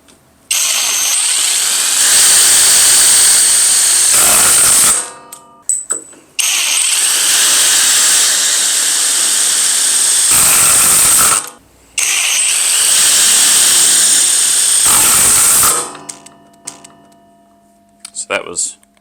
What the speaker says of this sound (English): Metal roofing screws in the regular mode, and then also in the self-tapping mode.